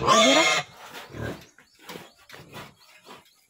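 A pig grunts and squeals loudly at close range for about half a second, followed by a few softer, scattered grunting and snuffling sounds spaced out over the next few seconds.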